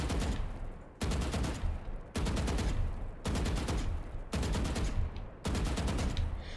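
Six short sprays of rifle fire from Valorant, each burst a tight rapid string of shots lasting about a second, separated by brief pauses, loud and evenly spaced.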